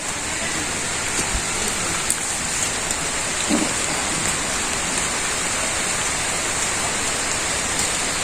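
Heavy rain pours down in a dense, even hiss of drops on surfaces, loud and unbroken throughout, with a few faint knocks in the background.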